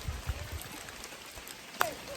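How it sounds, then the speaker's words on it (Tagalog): Heavy rain falling in a forest, a steady faint hiss of drops spread across the whole clip, with a few soft low thumps near the start and one brief sharp knock. "Napakaulan, lakas ng ulan."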